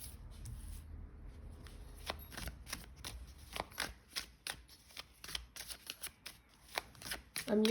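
Chakra Wisdom Tarot cards being shuffled by hand, a run of crisp riffling and flicking bursts that come faster toward the end, close up and fairly quiet.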